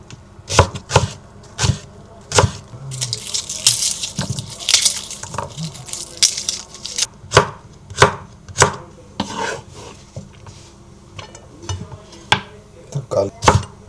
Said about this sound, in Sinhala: ඊට පස්සේ අපි කපනවා ඇස්පැරගස්.